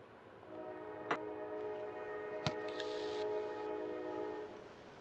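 A train in Kerbal Space Program sounds a long, steady horn with two sharp clanks partway through, heard alone at moderate volume.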